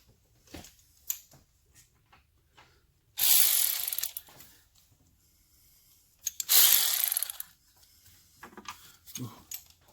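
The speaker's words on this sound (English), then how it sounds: "Get some power tools in here." Power ratchet spinning on oil cooler bolts of a 2014 Dodge Grand Caravan 3.6 L, two loud whirring bursts of a few seconds each, separated by quieter clinks and handling noises in a garage.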